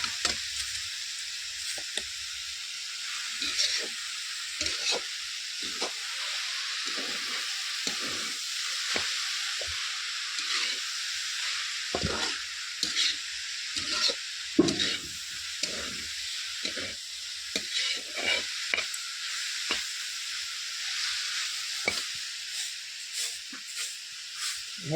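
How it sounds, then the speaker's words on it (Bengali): Drumstick (moringa) leaves frying in a pan: a steady, fairly loud sizzle and hiss runs throughout, broken by frequent soft scraping and stirring knocks at an irregular pace. "শাইগনির শাক ভাজা হয়ে গেছে"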